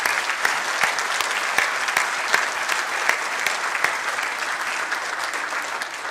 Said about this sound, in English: Can we have a round of applause for that gentleman there?